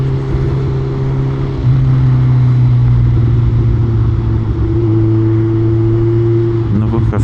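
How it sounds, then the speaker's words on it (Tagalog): A Kawasaki Z1000 motorcycle exhaust runs close by with a deep, full-bodied drone that steps up in pitch as the throttle opens, holds steady, then shifts again before a short rustle at the end. "Ayun, yung exhaust natin, hindi masyadong maingay. Pero buo yung ano niya, no? Yung tunog."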